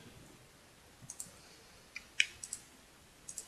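Faint, sparse computer mouse clicks while playing an online game, scattered singly and in quick pairs over a quiet background with no talking.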